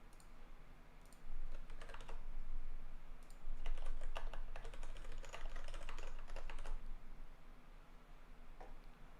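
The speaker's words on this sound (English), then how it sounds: "typing when you're short on time and everybody's watching" Rapid typing on a computer keyboard during a coding session, bursts of close, crisp key clicks with short pauses between them, no one talking over it.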